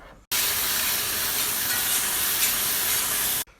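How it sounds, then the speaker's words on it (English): Harissa-marinated tofu sizzles in a hot wok, a loud, close, steady hiss that starts abruptly, holds for about three seconds and cuts off suddenly. "So it's time to put them in a wok."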